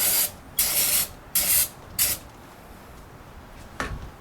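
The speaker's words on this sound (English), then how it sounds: "we'll give it another spray down" Aerosol cleaner sprayed onto throttle body gaskets of a drive-by-wire throttle body, four close hissing bursts of about half a second each, the last one brief and fainter, with quiet gaps between.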